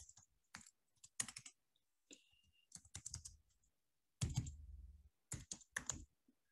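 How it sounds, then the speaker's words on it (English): Someone types on a computer keyboard in bursts, quick clusters of crisp key clicks separated by short pauses, close and fairly quiet with no talking. "Let me type it here."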